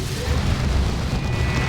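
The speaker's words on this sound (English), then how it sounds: "That's the Demolisher Cannon. Good hit on those heretics." Demolisher Cannon firing in the Warhammer 40,000: Dawn of War 2 game during a 3v3 battle, a dense, loud, low booming blast that rumbles steadily throughout without any talk.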